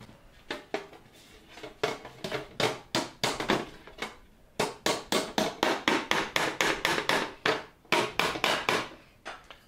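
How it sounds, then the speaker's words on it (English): A domed panel-beating hammer strikes sheet metal over dollies while shaping a great helm, with bursts of steady, ringing blows in quick rhythm, several dozen hits with brief pauses between runs. "So a panel beating hammer is domed over, so it puts less dinks in the metal that you're whacking."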